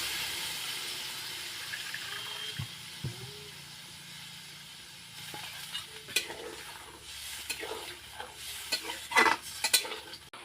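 Spiced water poured into a hot cooking pan for a pointed gourd, potato, lentil-paste and egg curry, producing a steady sizzling hiss that grows busier with scattered splashes and clinks toward the end, with no talking.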